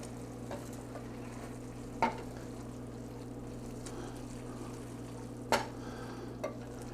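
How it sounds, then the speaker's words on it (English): Golden turmeric pasta is stirred in a pan over a low steady hum, with a couple of distinct utensil clacks against the pan and faint scraping between them. "Give it a little stir."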